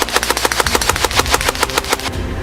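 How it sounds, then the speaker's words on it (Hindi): Rapid bursts of gunfire crackle in a fast, steady rhythm, loud and close, like sustained automatic shooting, from a murder scene. "हत्याकांड का वीडियो, गोली चलने की आवाज"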